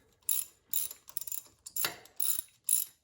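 A ratchet turns a socket on a spark plug in a 2017 Toyota RAV4 engine, giving a run of crisp clicking bursts in an uneven rhythm, close and clear with no talk.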